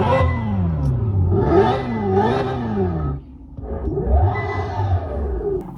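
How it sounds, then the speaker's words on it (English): A Hyundai Ioniq 5 N in manual mode plays its synthesized engine burble, loud and close, rising and falling like a revving car with a brief dip midway before swelling again. "There's a fake burble tune."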